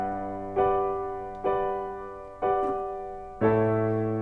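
Solo piano repeating a four-note pattern from a song, four evenly spaced struck notes and chords, each ringing and slowly decaying before the next, close and clear with no voice.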